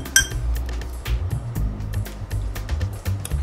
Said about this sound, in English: excuse me while I get a glass of water.